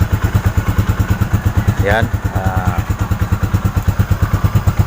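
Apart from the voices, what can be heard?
motorcycle engine warming up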